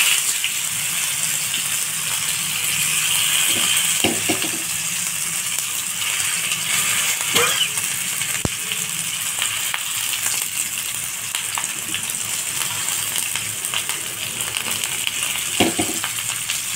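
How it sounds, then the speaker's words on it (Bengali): Stuffed pointed gourds (potol) fry in hot oil on a flat tawa, giving a steady, fairly loud sizzling hiss with occasional sharp crackles and pops throughout, and no voices. "এবারে এই তাওয়াতে তেল দিয়েছি, তেলটা হয়ে গেছে। এবারে এক এক করে পটলটা নিচে"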